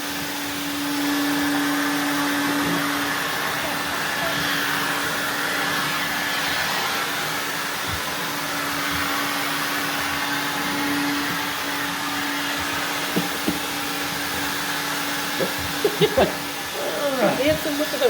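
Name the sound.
Prolux CTX vacuum cleaner cleaning linoleum and couch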